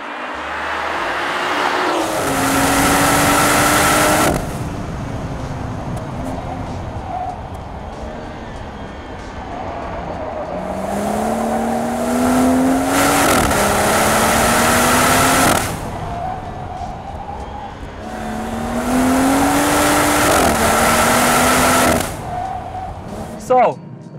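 2018 BMW M240i xDrive accelerating hard in three loud surges, its engine note rising through the gears and easing off between pulls, with a person talking over the quieter stretches.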